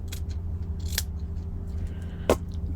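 Scissors snip thread once while sewing a needle roll, a single short sharp cut heard close over a steady low background hum.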